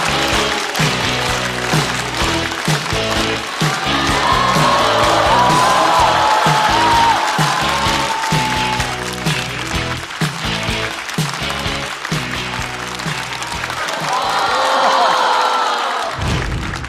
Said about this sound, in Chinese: 让我们掌声欢迎王大刀